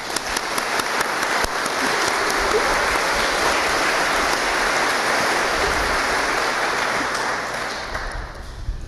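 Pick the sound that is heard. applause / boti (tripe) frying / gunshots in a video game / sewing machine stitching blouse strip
applause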